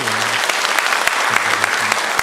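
Church congregation applauding steadily during a Sunday morning worship service, dense and continuous for a couple of seconds, with a voice briefly audible over the clapping.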